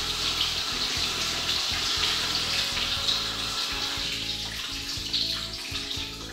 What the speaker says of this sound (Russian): Вареный рис хорошенько промываем холодной водой